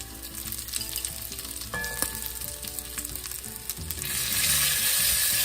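Minced garlic hits onions and bacon frying in a pot for a batch of dried beans, a loud, close, continuous sizzle that swells noticeably louder partway through, with some faint clatter and no talking.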